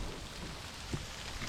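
Rain and small hailstones drum steadily on a metal sheet shelter, making a dense, even hiss with one slightly sharper tap partway through.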